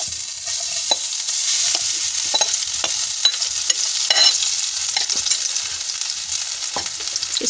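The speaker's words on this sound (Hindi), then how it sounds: "अब इसमें हम अपना ये मसाला ऐड करेंगे" Masala frying in a kadhai for a chicken samosa filling, a steady close sizzle with scattered scrapes and taps of a stirring spoon against the pan, no voices.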